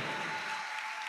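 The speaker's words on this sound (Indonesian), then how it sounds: "Tepuk tangan untuk Hilmi" Applause breaks out for Hilmi at a school iftar gathering, a short burst of clapping that thins quickly, with a steady high tone running underneath.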